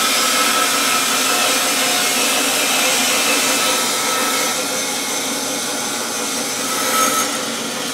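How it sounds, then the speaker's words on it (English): Bandsaw trimming excess maple top from a Stratocaster-style guitar body, a steady loud mechanical whir with continuous blade hiss that barely changes over several seconds, close up with no talking. "I'll start doing that on the bandsaw"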